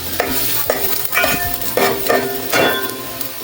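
Ginger sautéing in a pan for chicken batchoy, with a steady sizzle and repeated metal scrapes and clanks from a spoon stirring about every half second, close and fairly loud, no talking.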